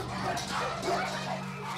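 Dogs at a puppy farm kennel barking and yipping, with some whimpering, several overlapping and muffled in an enclosed space under a steady low hum.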